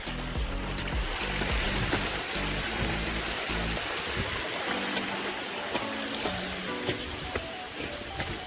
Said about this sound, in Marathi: तिथला छोटासा धबधबा.